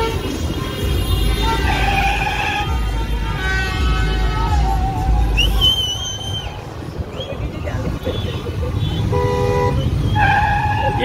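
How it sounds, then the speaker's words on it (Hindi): Cars stuck in a Lahore traffic jam on the night before Independence Day honk repeatedly, with short toots and longer blasts over a steady engine rumble, and people talk nearby. "बहुत ज़्यादा यहाँ पर शोर है और उसके बाद ट्रैफिक जाम है"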